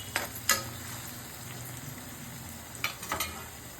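Bitter gourd curry frying in a pan sizzles softly and steadily, with a few sharp scrapes as a spoon stirs it at the start and again near the end.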